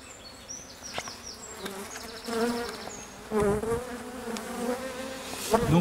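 Honeybees buzzing around an open hive, a close, steady swarm drone with individual bees whizzing past the ear, rising and falling in loudness.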